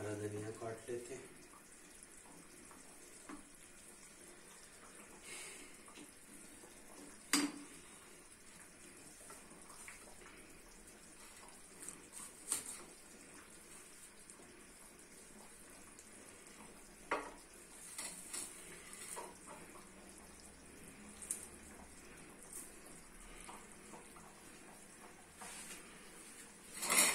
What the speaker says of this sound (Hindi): धनिया वाश कर लेते हैं।